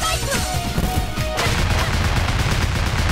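Dense, loud gunfire from the video game Freedom Planet crackles almost without pause, a continuous barrage of shots and impacts layered over game music.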